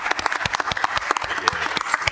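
Dense applause from a roomful of people at a city council meeting, a brief crackling burst of many overlapping claps.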